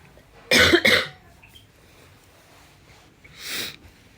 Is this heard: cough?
yes